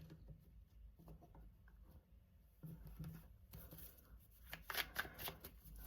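Tarot cards being shuffled and pulled by hand, heard as soft, close riffling and patter in short irregular bursts, with a busier flurry near the end, quiet and without talk.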